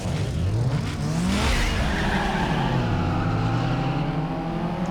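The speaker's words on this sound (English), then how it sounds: "I still love the M3 GTR sound" A BMW M3 GTR in Need for Speed Underground 2 roars loudly with its engine revving up and down through the gears, straight-cut gear whine layered over the engine note along with tire squeal.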